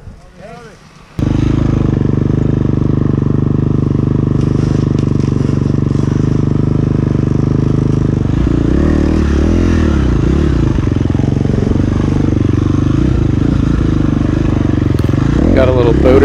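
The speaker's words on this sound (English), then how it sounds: "The four stroke is me, and if you hear a two stroke, that's going to be Dan riding" Four-stroke and two-stroke enduro dirt bikes on a rough fall trail in Marquette, Michigan, heard as a loud, close, continuous engine drone that kicks in after a brief quiet start, with small rises and scraping clatter.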